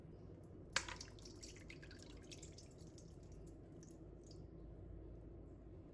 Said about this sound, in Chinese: 洗干净，把水倒掉。